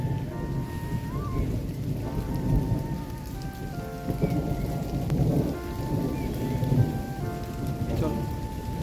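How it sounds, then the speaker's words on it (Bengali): Heavy rain with rolling thunder on a narrow forested mountain trail on the Triund trek near McLeodganj, Himachal Pradesh, during a hailstorm; a steady loud downpour with deep rumbles swelling and fading throughout. "শিলাবৃষ্টি চালু হয়ে গেছে এখন। পাহাড়ি রাস্তায় শিলাবৃষ্টি।"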